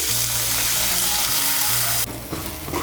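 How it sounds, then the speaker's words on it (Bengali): Washed, drained red lentils frying in a little white oil in a wok, a dense close sizzle with low bubbling, suddenly thinning near the end as stirring shifts the sound. "এর মধ্যে আমি মুসুর ডালটা ভেজে নেব"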